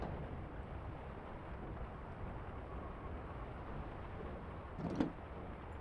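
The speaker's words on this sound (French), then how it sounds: "La pluie et le vent font tant de bruit." Steady rain and wind noise from a storm in the game Lion's Song, a constant broadband hiss with one brief louder thump or crackle near the end, no voices.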